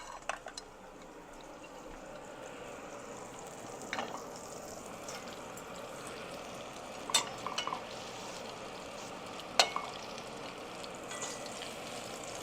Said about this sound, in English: see how beautiful it's cooking because the plantain was perfectly ripe